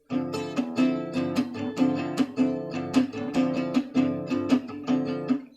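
An acoustic guitar plays an eighth-note bossa nova accompaniment pattern, with the second and fourth beats muted and a steady down-up right hand, sounding clear and close with no voice.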